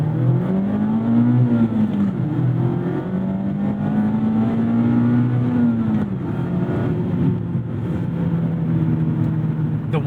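Mazda MX-5 ND3 Club BBR engine pulling hard through the gears, a loud steady in-car drone whose pitch climbs, drops at a shift and climbs again, with no talk over it.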